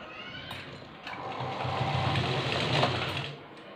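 A sewing machine stitches a salwar seam, its needle chattering in a quick steady run that builds slightly louder mid-way before easing off, close and clear with no voices.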